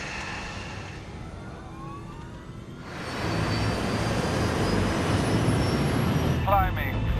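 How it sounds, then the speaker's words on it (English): A fixed-wing airplane accelerates for takeoff on runway 33, its engine roar swelling sharply to a loud, sustained broadband rush that stays steady to the end, with faint radio-like tones over it. "Cleared for takeoff, runway 33"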